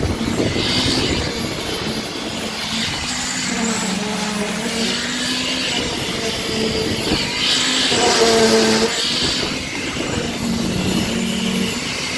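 A concrete pump runs during slab pouring at a construction site in Saudi Arabia, a loud steady mechanical drone with a surging swell midway, close and continuous, with faint talk beneath.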